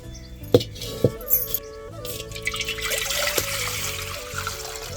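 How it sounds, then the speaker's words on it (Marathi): A tin container's worth of water is poured into a pot set on a wood-fired chulha for cooking dal. A couple of metallic clinks come first, then a close, continuous splashing pour that settles into a trickle. "आता वरती पातेलं ठेवू, त्याच्यात एक डबाभर पाणी टाकू"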